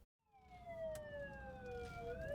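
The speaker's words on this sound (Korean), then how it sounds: "신고와 동시에 급하게 출동하는 구급차." An ambulance rushing out on an emergency call, its wailing siren rising and holding loud and fairly close, with road rumble of traffic underneath.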